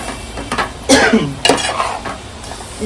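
Mutton is stir-fried with masala in a pan, with loud close scraping strokes of a spoon against the metal over a soft sizzle, a few distinct stirs in under three seconds.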